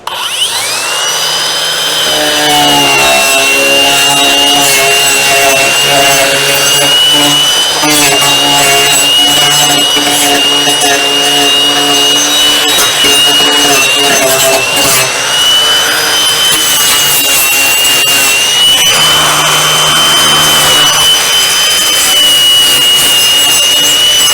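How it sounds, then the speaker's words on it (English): An angle grinder cuts into wood used for epoxy resin work, a loud sustained high-pitched whine with a rasping grind that runs almost unbroken for over twenty seconds, close to the listener. "Angle grinder. Turning it on."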